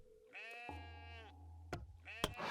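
Sheep bleating in the farming sim Masterplan Tycoon: a few drawn-out, wavering bleats close up, one after another over a steady low hum, with no talk.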